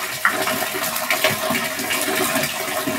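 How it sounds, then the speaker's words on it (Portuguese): Water running and falling in a home, a continuous splashing rush with small irregular spatters, loud and close, with no voices. "É água, mamãe. Tá caindo."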